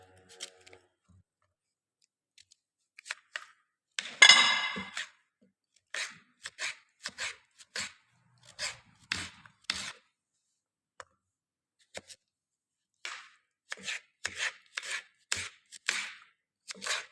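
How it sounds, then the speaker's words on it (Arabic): A knife cuts through a red pumpkin for soup, making a series of sharp, close chops and crunches against a cutting board, irregularly spaced, with quiet gaps between them and no talking. "غادي نقص هاد القرعه."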